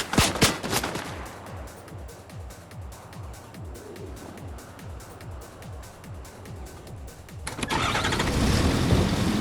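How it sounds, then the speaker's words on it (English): Gunfire in a shooter video game: a long run of rapid, evenly spaced shots, fairly loud and close, ending in a heavier, noisier burst. "Who's shooting at me?"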